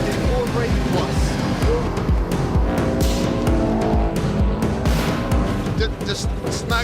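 Subaru Impreza WRC rally car driven hard, a loud continuous engine roar with revving, gravel and tire noise, and a voice talking over it throughout.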